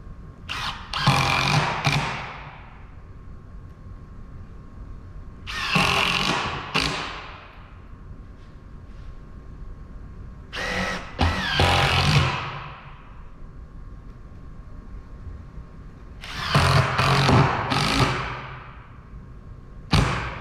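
A power drill drives screws into a wooden balance beam in a woodworking shop. Four separate bursts of close whirring come with gaps of quiet between them.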